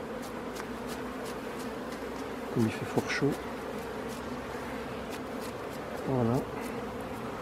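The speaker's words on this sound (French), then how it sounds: "Les dernières abeilles, je vais les brosser." Honeybees buzz steadily around an open hive while a beekeeper brushes the last bees off fragile wax combs, a constant close drone with a few sharp pitch swoops from passing bees and someone speaking briefly.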